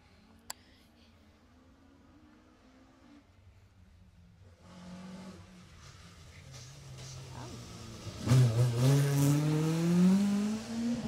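A rally car at speed on a closed stage at the Jersey Rally 2018, first a faint engine drone in the distance, then the engine note rising and swelling into a loud, revving pass with shifting pitch near the end.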